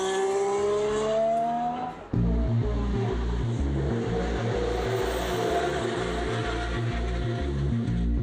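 A race car leaving the pits at full throttle roars loudly in rapid rising gear pulls after a brief dip, the engine note climbing again and again, close and dominant.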